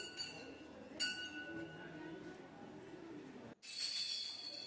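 Small bells hung on a chandelier at a Durga Puja pandal are shaken by hand, giving a bright metallic tinkling that rings on over a hum of crowd noise, with a fresh jangle partway through and another near the end.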